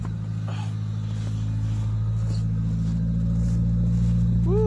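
An old car, dubbed Project smurf and left smoky after a long hibernation, runs at a steady, rumbling idle close by, its low engine drone continuous throughout with no talk.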